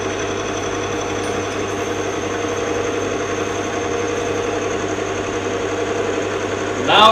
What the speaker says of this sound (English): The motor is still turning.